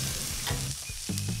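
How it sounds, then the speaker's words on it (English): Creek-caught fish sizzles on an electric grill running off a Jackery portable power station outdoors, a loud continuous frying crackle close up with brief stirring scrapes and no voices. "enough power to grill this fish, which I caught in yonder creek"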